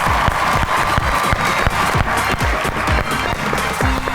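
An audience at a comedy show claps to welcome a guest onto the stage, with loud, busy applause and sharp individual claps standing out against the crowd noise.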